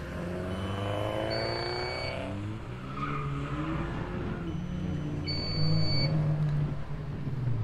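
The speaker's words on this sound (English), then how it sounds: "we've got Nadia Singh now out on track with the Spec C Subaru" A Subaru Spec C rally car is driven hard through a gymkhana motor club course, its engine revving and changing pitch, with tires squealing and skidding at moderate distance and no voices.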